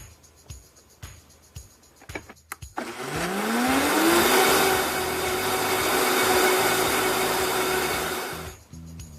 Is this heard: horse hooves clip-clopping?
no